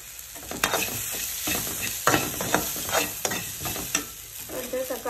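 Spices and turmeric powder frying in a pan for tamarind-free rasam, a soft sizzle with repeated scraping stirs at a moderate, uneven rhythm, close and fairly quiet with no talk.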